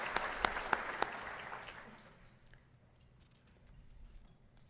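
At a mathematics educators' conference session, a few sharp, close claps open a brief, faint round of applause from the audience that quickly fades into quiet room noise.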